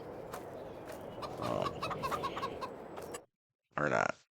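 Flock of chickens in the Farming Simulator 22 video game clucks busily and continuously, with a person talking briefly over it before a short pause and a final burst of clucking.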